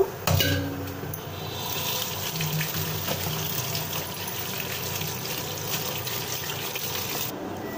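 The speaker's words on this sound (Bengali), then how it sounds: "একটু ঠান্ডা পানি ছেড়ে দেব।" Cold tap water runs steadily over drained noodles in a home kitchen, a constant close gush with a small clatter at the start.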